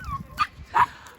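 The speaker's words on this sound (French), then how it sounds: "il y a les chiens qui sont là, accompagnés de leur maître" Dogs out with their owners give a few short barks and yips, spaced apart and fairly close, with no talk over them.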